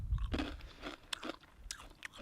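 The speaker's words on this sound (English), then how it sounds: "So, enough with munching the chips." Vegan chips crunched and munched up close, a run of sharp, irregular bites and chewing crackles over a couple of seconds with no talk.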